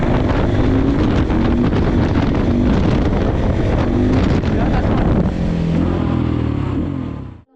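A motorcycle engine revs hard through quick successive gear shifts during wheelie practice, loud and close, its pitch climbing and dropping with each change under heavy wind noise.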